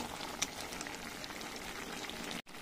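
Mixed vegetables simmering in a covered pot over a gas flame, a soft continuous bubbling and patter, quiet and close, with one brief click.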